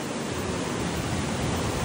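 Strong river current rushing over large rocks near Ditumabo Mother Falls in San Luis, Aurora, heard as a steady, loud, broadband roar of water with no talk.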